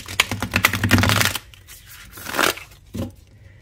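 A deck of tarot cards riffles and slaps in quick flurries, a busy rustling burst followed by a couple of short, softer shuffles, close and clear with no talk.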